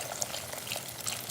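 Chicken broth is poured over carrots and bell pepper in a cooking pot, making a brief, soft, steady liquid splash and trickle.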